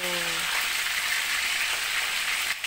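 Food frying in hot cooking oil, a dense, steady sizzle that stays loud and close throughout, with a brief voice at the very start.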